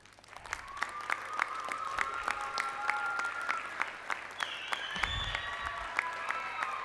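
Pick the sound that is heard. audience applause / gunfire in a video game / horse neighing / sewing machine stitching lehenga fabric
audience applause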